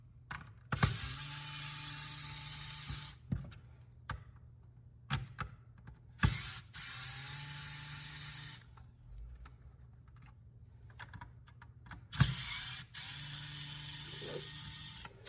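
An electric screwdriver spins out Phillips head screws from a Nintendo GameCube shell in a series of short whirring bursts, each a few seconds long, separated by quiet pauses and small clicks of handling.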